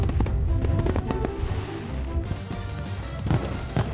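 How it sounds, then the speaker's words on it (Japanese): Fireworks at the Urayasu City fireworks festival, launched from a barge 350 metres offshore, burst repeatedly in loud, crackling booms, one after another with sharp pops, in a continuous barrage. "日の出明美地区の沖合350メートルの台船から打ち上がる花火は、水面に映り"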